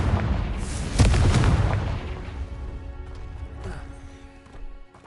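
Confringo fire spell exploding in Hogwarts Legacy: a sharp, loud blast about one second in, then a rolling boom that slowly fades, with smaller crackles and clatter near the end.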